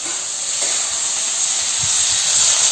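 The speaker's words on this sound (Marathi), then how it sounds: "आता याच्यामध्ये टोमॅटो टाकते" Tomato dropped into a hot pan with onion gives a loud, steady, close hiss of sizzling that holds without a break from start to end.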